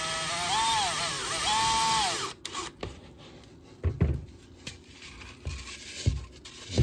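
A drill whines steadily in two close runs while driving a screw into a foam taxidermy mannikin for a fish, followed by quieter scattered taps and handling knocks.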